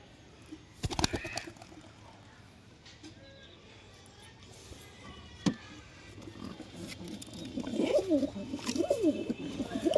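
Kolkata Matraj and household pigeons coo at a home loft, with a couple of sharp claps early on and the throaty cooing growing louder and more continuous toward the end, voices faintly present.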